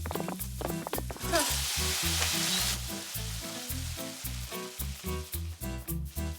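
A cartoon scene of caramel still sizzling in a very hot pan, a loud bright hiss rising and fading over a rhythmic, pulsing musical backing.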